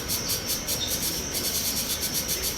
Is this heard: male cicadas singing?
yes